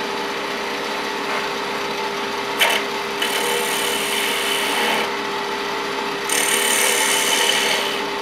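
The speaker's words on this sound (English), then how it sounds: "I'm going to use a detailing gouge, if for no other reason it's because I've got it laying out here and it's sharpened to take this nub off." A sharpened detailing gouge takes light cuts on wood spinning on a lathe while a pocket mirror is turned, a steady scraping hiss with brief louder bursts over a constant motor hum.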